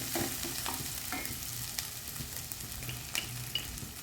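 Chili powder frying in a pan for an Arabian mutton dish, a soft steady sizzle with occasional sharper pops and the light scrape of stirring, close and on its own without talk.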